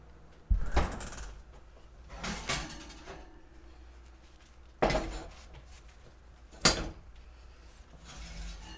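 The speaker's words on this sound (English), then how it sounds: "they're all browned up and ready to come out of the oven" Baked blackberry and peach cobblers come out of a home kitchen oven with several sharp clanks of dishes and pans, spaced over a few seconds, along with a rattle of metal and the oven door.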